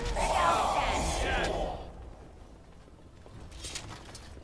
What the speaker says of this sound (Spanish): Encima hay chillido, habían chillidos también por detrás.